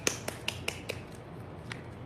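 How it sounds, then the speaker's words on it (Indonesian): A few separate hand claps, faint and fairly close, spaced irregularly over a quiet room during a casual livestream showroom session. "Yeay, tepuk tangan lo."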